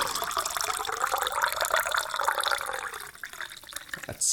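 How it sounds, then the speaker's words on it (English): Ginger ale poured into a glass at close range, a continuous gurgling, fizzing stream that thins and becomes more broken before a final splash. "you guys are gonna hear me pour the ginger ale into the glass"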